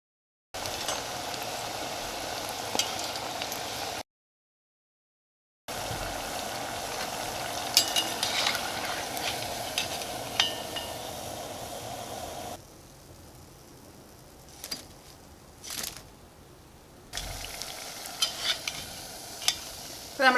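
A Kerala tea-time snack deep-frying in hot oil in small batches: a steady close bubbling sizzle with occasional stirring clatter, cut by brief silent gaps.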